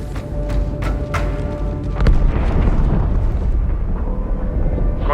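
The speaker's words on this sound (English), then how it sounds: "That explosion came from inside the Athens, same as the Malta." In the Halo 2 campaign, the warship Athens explodes with a loud, deep, rumbling boom. A few sharp cracks come first, then a sustained roar that fills the scene.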